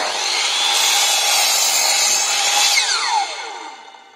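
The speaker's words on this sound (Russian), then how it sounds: "отпиливаем" A power saw cuts through a wooden floorboard during second-floor floor installation in a frame house, a loud steady whining cut lasting several seconds that drops off as the offcut separates near the end.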